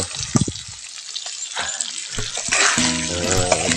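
Meat frying in a pan crackles and sizzles in short bursts, with stirring clatter and a thicker, louder hiss building toward the end.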